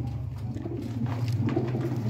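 Pigeons coo steadily up close, a low, throaty rolling murmur from several birds at once, repeated without pause over a faint background hiss.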